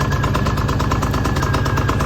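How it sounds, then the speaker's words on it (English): Portable generator on its first start-up, running steadily with a loud, close, even engine drone and a rapid pulsing rumble, no voices. "I'm gonna go ahead and pull start it"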